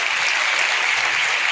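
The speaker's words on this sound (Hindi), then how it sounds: "एक बार इनके लिए विशेष ताली बजाएं।" An audience claps in applause for the musicians at a Bhagavat Katha religious gathering at a Kali Mata temple, a dense, steady wash of many hands, loud and sustained without break.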